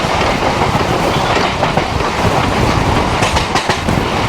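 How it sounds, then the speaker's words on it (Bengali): The Saira Express passenger train rolls along the rail line with loud, close, continuous rumble and rhythmic wheel clatter over the track, with no voices. "এদিক দিয়ে হচ্ছে সায়রা এক্সপ্রেস চলে আসছে"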